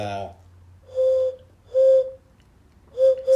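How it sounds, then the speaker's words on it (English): Three hollow, breathy whistled tones made by blowing across a jug, each held about half a second with pauses between, following a brief voice at the start. "stop doing jug whistling"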